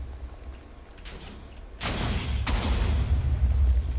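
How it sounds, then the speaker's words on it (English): Meteor impacts in a StarCraft custom game land as a couple of sudden booming explosions over a low rumbling bed, the second blast following about half a second after the first, with no voices. "And you can hear the explosions around me."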